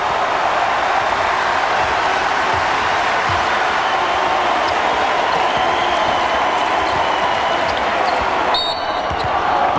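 A basketball crowd cheers in the arena at a Maryland at Duke college game. A loud, steady roar fills the building without a break and stays dense and unbroken to the end.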